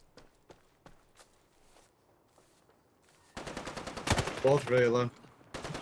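Gunfire in the Islands of Nyne video game, a handful of sharp distant shots and footsteps followed by a louder burst of fire, with a player talking over the end.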